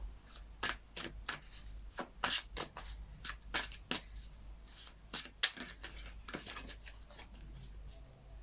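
Tarot cards being shuffled by hand, about a dozen quick crisp riffles and slaps in an uneven rhythm, close and fairly quiet over a low steady hum, with no talk.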